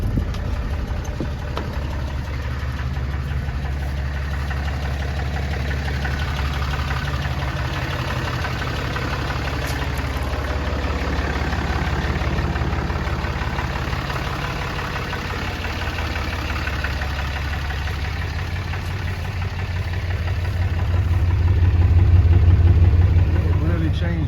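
A new diesel pickup truck with a DEF system idles nearby, producing a steady low rumble with a faint rattle that rises briefly toward the end, while someone talks over it.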